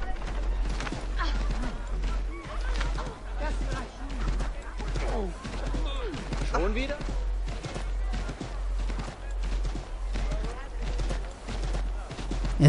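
Horse galloping in the video game Assassin's Creed 3, a steady run of rhythmic hoofbeats under someone talking throughout, with a low constant hum beneath.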